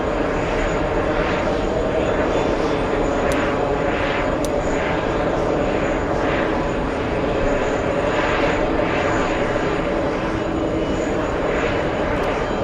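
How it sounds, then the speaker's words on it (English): A JetBlue Airbus A321 takes off at JFK airport, its engines producing a loud, continuous roar that holds steady throughout. "We'll go for the next takeoff. It's JetBlue. It's an Airbus A321."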